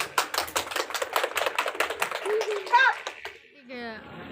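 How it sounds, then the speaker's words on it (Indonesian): Classroom applause from student listeners after group 2 presents on making compost fertilizer from water hyacinth: a dense run of hand claps over the first two and a half seconds, then fading as voices and other sounds take over. "Terima kasih ya, tepuk tangan."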